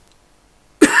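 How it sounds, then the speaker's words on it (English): A single short, sharp cough bursts out abruptly after a second of near silence, close and fairly loud. "Excuse my cough."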